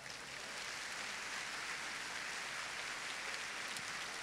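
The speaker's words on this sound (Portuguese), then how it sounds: "Posso ouvir uma salva de palmas para o Senhor?" Church congregation applauding the Lord, a faint but steady wash of many hands clapping together, sounding distant and continuous from start to finish.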